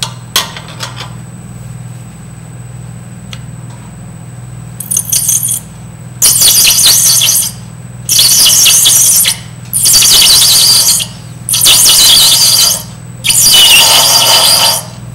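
A wood lathe spinning at 325 RPM turns a stool leg while an armrest tool cuts into it. A constant motor hum underlies five loud, evenly spaced bursts of gritty cutting noise, each lasting about a second.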